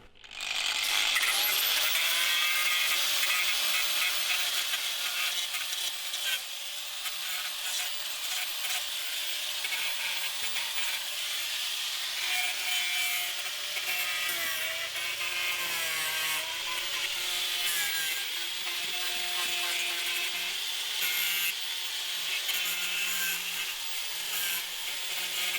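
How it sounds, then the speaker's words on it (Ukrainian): An angle grinder whines continuously while sanding plywood on a beehive, a harsh abrasive hiss that wavers in pitch as the tool moves, loud and close for a long stretch. "трішки зачищаю болгаркою, щоб гладенько було"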